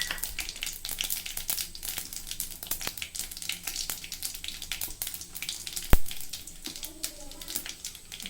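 Mustard and fenugreek seeds frying in hot oil for a banana-flower dumpling kulambu, with steady crackling and sharp popping spits throughout and one louder pop near the end, close up.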